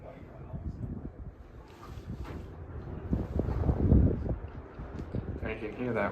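Wind gusting at the top of Stratton fire tower, a low rumbling buffet against the microphone that swells and fades in uneven surges, loud and close, with a voice talking over it.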